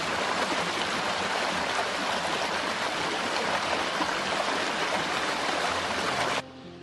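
A stream in Ireland runs over rocks, a steady close rush of water with no voices, continuing evenly before cutting off abruptly near the end.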